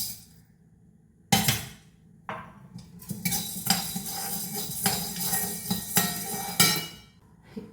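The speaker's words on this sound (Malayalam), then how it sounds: "നമുക്ക് പയർ വറക്കാം." Dry-roasting lentils in a pan while making Vishu kanji: after a quiet start, metal scraping, clinking and stirring sounds in irregular bursts, fairly close but moderate in level, with no voices.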